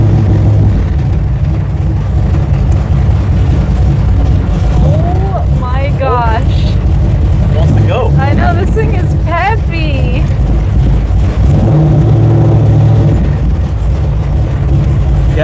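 A 1968 Dodge Charger on its first drive, engine rumbling loudly and close from inside the car, with several rising revs and gear changes mid-clip before settling back to a steady drone.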